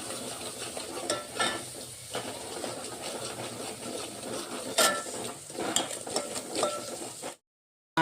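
Spices with kasuri methi sizzle and fry in hot oil, a steady close crackle broken by occasional sharp stirring clinks and scrapes, with no talk, before ending in sudden silence.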